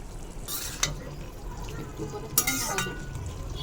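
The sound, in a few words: stirring karela with taki shutki curry while cooking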